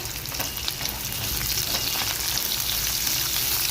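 Garlic cloves and a little ginger fry in a pan, giving a steady close sizzle and crackle of hot oil with occasional stirring scrapes, no voices.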